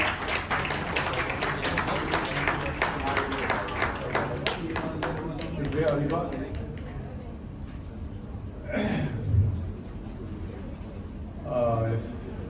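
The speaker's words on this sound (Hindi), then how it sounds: "जोरदार तालियां हो जाए सर के लिए।" Audience clapping for a chief guest called onstage at an awards ceremony in a hotel, dense applause in the first half that thins and fades out, followed by someone speaking.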